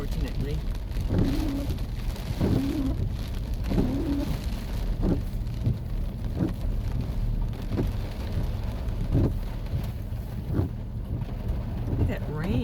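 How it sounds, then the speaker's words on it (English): Heavy storm rain pouring steadily outside a van, a dense constant hiss with occasional low thumps, while a person talks now and then. "Look at that rain."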